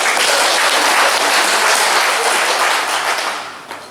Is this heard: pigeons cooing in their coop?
no